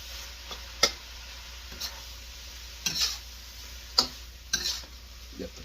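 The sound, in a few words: eggs being broken up and stirred in a pan with shrimp fried rice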